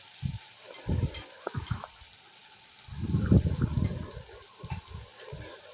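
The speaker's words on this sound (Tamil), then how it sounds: "இது நல்லா பச்சை வாசனை போகிற வரைக்கும் அந்த எண்ணெயில் நல்லா வதக்கிக்கணும்" Masala fries in oil for chicken kurma with soft, intermittent sizzling and stirring scrapes in the pan. Denser frying noise swells midway, close and moderately loud, with no talk.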